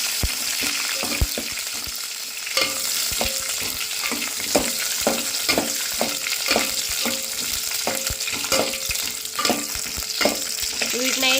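Moringa drumsticks fry in hot oil with a steady, close sizzle, broken by a regular series of sharp clinks and scrapes from stirring throughout.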